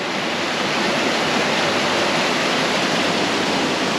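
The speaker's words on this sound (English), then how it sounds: "I'm going to take some video of this little waterfall here," Small waterfall feeding larger falls, a steady, dense rush of falling water heard up close, loud and unbroken throughout with no voices.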